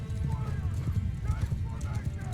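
Horses gallop across a battlefield in Mount & Blade II: Bannerlord, a dense, continuous drumming of hooves with a whinny, heard close and loud under a voice.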